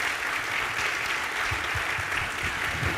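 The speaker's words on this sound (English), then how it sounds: "please join me in giving a round of applause to our panelists today" An audience applauds panelists at a West Virginia forum on AI, steady sustained clapping that fills the whole stretch at an even level.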